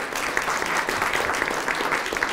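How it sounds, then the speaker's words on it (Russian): An audience at a talk show on youth and politics bursts into steady, dense applause, a continuous wash of many hands clapping at moderate volume for the whole stretch. "Аплодисменты."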